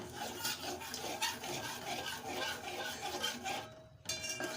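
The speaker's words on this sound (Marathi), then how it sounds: "मिश्रण छान एकजीव करून घेत आहे" Soft, close scraping and rubbing of a spoon stirring a rice flour and jaggery mixture in a pot, steady and rhythmic, with a brief pause near the end.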